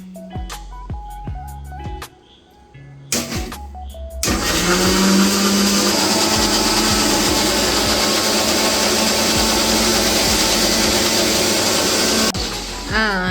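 An electric blender whirs avocado and milk into juice: after some clinks and handling, the motor kicks in at about four seconds and runs as a loud, steady, close roar until near the end.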